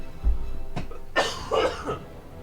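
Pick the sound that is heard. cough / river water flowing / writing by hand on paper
cough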